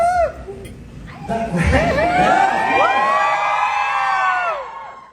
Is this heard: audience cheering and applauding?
yes